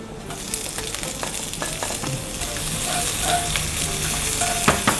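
Spring onions sizzle steadily in a hot pan with oil, stirred with scattered scraping clicks of a utensil against the pan, close and fairly loud, with no one talking.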